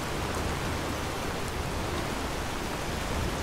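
Steady rain pours down in the video game Enderal, a dense, even hiss of raindrops on surfaces that runs unbroken and fairly loud throughout, with no voices over it.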